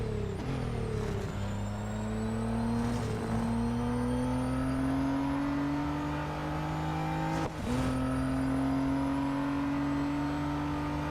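Nismo R33 Skyline engine from Real Racing 3 during a track day, a steady loud drone climbing in pitch through the gears, with a couple of sharp shift breaks and a brief dip partway through.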